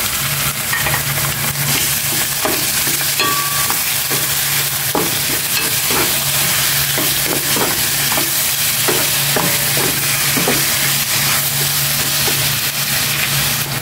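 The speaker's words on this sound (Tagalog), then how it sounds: "Gisa ko rin itong chicken." Chicken pieces sautéing in a pan for pineapple chicken, with a steady loud sizzle and frequent scraping stir strokes of a utensil throughout, plus a low constant hum in the background.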